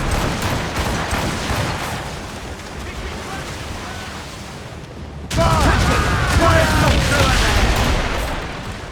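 Naval battle in Assassin's Creed Rogue, with ship cannons and mortar firing amid roaring sea and boat noise, a dense rumble of booms that grows louder partway through.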